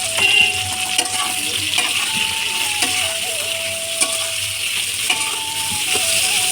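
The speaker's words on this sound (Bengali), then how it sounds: "তেলটা কিন্তু গরম হয়ে গেছে, এবার পটলগুলো আমি ছেড়ে দেবো" Pointed gourd (potol) frying in hot oil with salt and turmeric, a continuous close sizzle with occasional spatula scrapes and a faint wavering tone running underneath.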